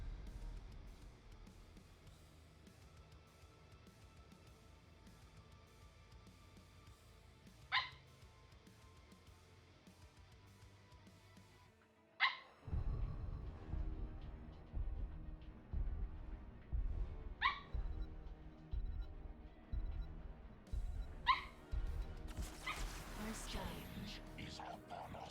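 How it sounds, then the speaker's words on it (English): A dog gives a few short, sharp barks scattered over a quiet room, heard alongside low talking and background game sounds. "No puppy. We're not barky today."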